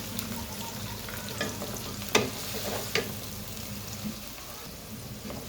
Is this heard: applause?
no